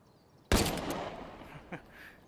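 Gunfire in the VR shooter H3VR: one sharp, loud shot rings out and decays, followed by a second, quieter report a moment later, with no talking.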